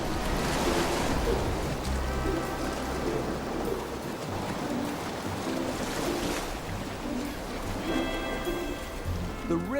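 Raging surf pounds a rocky island shore where rockhopper penguins come ashore, a loud continuous roar of breaking waves with churning wash throughout.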